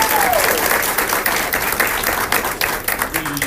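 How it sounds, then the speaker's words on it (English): A school board meeting audience gives a round of applause for the indoor drum line, a loud, dense burst of clapping that starts full and gradually thins and turns more ragged toward the end. "So give them a round of applause for that."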